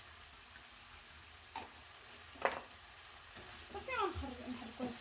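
Onion and pepper frying in a pan, a soft low sizzle with a few scrapes and clinks of stirring, quiet and close, without talk.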